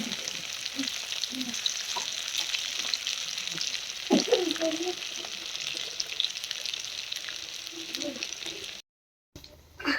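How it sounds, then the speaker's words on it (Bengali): Pangas fish fritters fry in oil, making a steady close sizzle with occasional bubbling pops and a few stirring sounds, briefly cutting out to silence near the end. "আমার বড়াগুলো ভাজা শেষ"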